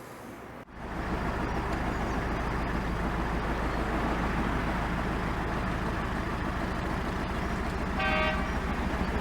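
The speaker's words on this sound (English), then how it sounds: "Amy Jo's got the horn" A narrowboat's diesel engine chugs steadily along a canal, close and continuous, until a single short horn toot sounds near the end.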